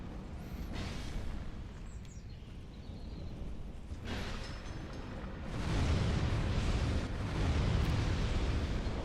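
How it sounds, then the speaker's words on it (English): Loud, continuous booming explosions and rumbling blasts from the tank combat video game Tank Souls 2, swelling in intensity partway through with dense, crackling low roars and no talk. "The explosions are so loud."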